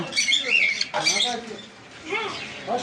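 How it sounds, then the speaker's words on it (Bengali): A hand-tamed sun conure parrot gives sharp, high squawks and chirps in short bursts, close by, with someone talking over the calls. "এখানে আছে সানকনুর হ্যান্ড হ্যান্ডটেপ পাখি আছে"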